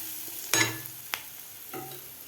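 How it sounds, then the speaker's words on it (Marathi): Spoon scraping and stirring through fried chili paste with turmeric and a pinch of asafoetida in a pan: a few sharp clinks and scrapes over a faint, steady sizzle. "व्यवस्थित आपल्याला हलवून घ्यायचं आहे।"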